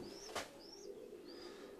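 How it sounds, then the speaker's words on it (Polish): Pigeons in a breeder's loft at Norbert Peeters' place coo softly, with a few thin high chirps and one brief rustling burst, all faint and somewhat distant. "Przede wszystkim piękne, miękkie, jedwabiste upierzenie, naprawdę bardzo ładne gołębie."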